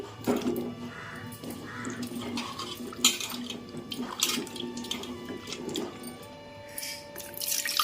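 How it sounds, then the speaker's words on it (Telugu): Water sloshes and splashes as potatoes are rubbed and rinsed in a bowl, with light clinks of kitchenware and a distant crow calling. "బంగాళదుంపలు ఉడికించుకోవాలండి అవి ఒక నీటిలో వేసుకొని కడుక్కోవాలి"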